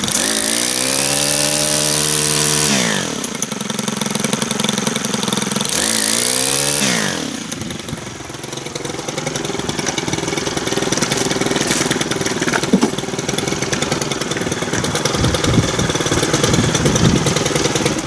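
A brand-new Stihl string trimmer's small two-stroke engine runs nearby, starting with a steady buzzing idle, briefly revving up twice, then dropping back into a rough, rattly running noise that continues to the end.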